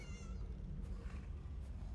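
A cat meows a couple of times, faint and somewhat distant over a steady background hum.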